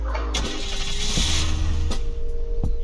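A SWAT car's engine in the video game Unturned, from Zoli's Emergency Vehicles mod, starts up and settles into a steady mid-pitched running hum, loud and close, with a couple of brief clicks or knocks along the way.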